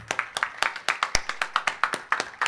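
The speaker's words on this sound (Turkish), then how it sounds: "Gani Aktürk alkışlarınızla efendim davet ediyoruz." Audience members at a village grape festival in Adalıkuzu clap in a sparse, fairly regular rhythm, each sharp clap standing out clearly and close by.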